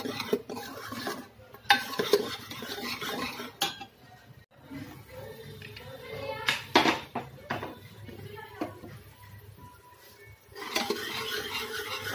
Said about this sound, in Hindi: इसको अच्छी तरह से हमने, जब तक ये तेल नहीं छोड़ देगा तब तक हम इसको भूनते रहेंगे।